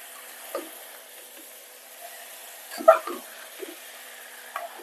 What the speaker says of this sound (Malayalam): അതിലേക്ക് ആവശ്യമായ ഉപ്പൂടെ ചേർത്ത് കൊടുക്കാം നല്ല രീതിയിലൊന്ന് ഇളക്കി യോജിപ്പിച്ചെടുക്കണം